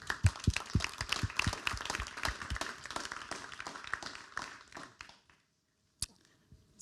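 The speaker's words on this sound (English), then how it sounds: "Let's give Torana a great hand of applause." A small audience applauding after a lunch talk on applied AI, a thin scatter of individual claps near the microphone that thins out and stops, then a single late clap.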